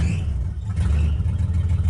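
A 1959 Ford Galaxie Fairlane 500 V8 runs rough on a cold start with no choke connected, a low uneven rumble that surges and dips briefly, close and fairly loud.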